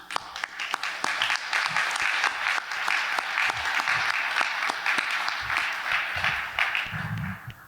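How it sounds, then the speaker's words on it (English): Sustained audience applause at an outdoor ribbon cutting ceremony for a plaza, dense steady clapping from a crowd lasting throughout, fairly loud and continuous with no talk over it. "So I'm going to applaud you."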